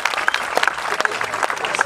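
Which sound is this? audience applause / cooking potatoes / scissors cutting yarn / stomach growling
audience applause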